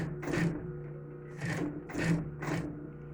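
Short bursts from a sewing machine stitching a seam on a small fabric phone bag, four quick runs separated by brief pauses, close and moderately loud with a steady low hum underneath.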